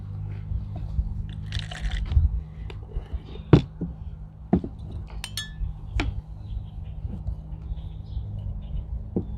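A spoon stirs baking soda into purple cabbage pH indicator in a container, making a few sharp clinks and taps against the glass amid soft swirling, close and fairly quiet.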